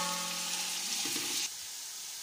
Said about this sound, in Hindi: यहाँ पे एक पाव मैंने कुकिंग ऑयल लिया था और उसमें चार दरमियाने साइज के प्याज काट के डाल दिए हैं